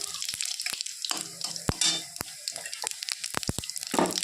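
Bay leaf and whole cumin seeds hit hot oil left from frying fish, giving a bright, crackling sizzle with sharp pops and spatters that flare up, then settle into a steady fizz close by.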